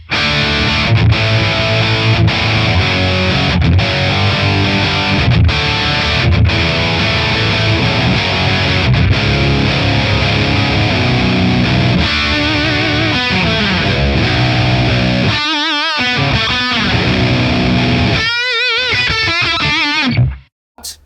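High-gain electric guitar played through a Tonex amp capture set to a less bright tone, dense distorted chords ringing loud and continuous, with chugging breaks and sparse stabs toward the end before cutting off.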